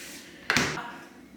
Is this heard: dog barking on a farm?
no